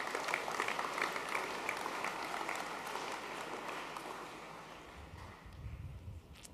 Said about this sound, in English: Can we please give our boys one more round of applause?